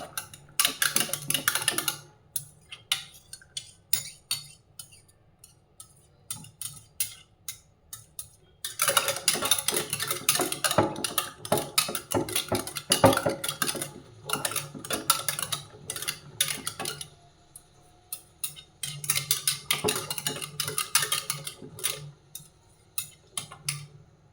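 Mustard powder, about two spoonfuls, stirred into a mixture in a bowl for homemade kanji, with quick ticking clicks of a spoon against the bowl that come in bursts and pause between them, close and fairly quiet.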